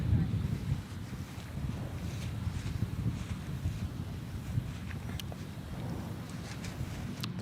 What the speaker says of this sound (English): The wind has definitely picked up